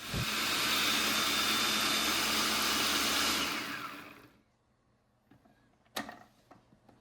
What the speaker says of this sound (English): Just turn on the blades and let it grind it up into a powder.